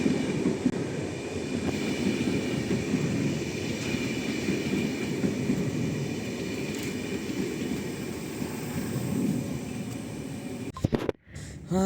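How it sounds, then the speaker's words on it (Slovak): Steady rumble and rattle of a Railjet train in motion heard from inside a carriage, continuous and fairly loud, with a few brief clunks near the end. "tak sedím už vo vlaku a máme tu také menšie prekvapenie, lebo mali ísť ECčko a miesto neho ideme railjetom."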